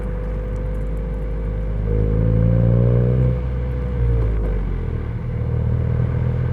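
A Honda Civic FK7 fitted with an HKS Hi-Power Spec L2 muffler drones under engine braking, a deep, close exhaust rumble whose pitch rises and falls over several seconds.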